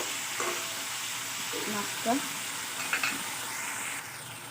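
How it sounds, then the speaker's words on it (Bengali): Fish head and tail sautéing with spices in a pan for a bottle gourd leaf curry with kali baus fish, a steady close sizzle with a few soft stirring scrapes. "মশলাটা কষানো হয়ে মাছের মাথা আর লেজটা দিয়ে দেব। এটাও ভালো করে কষিয়ে নেব।"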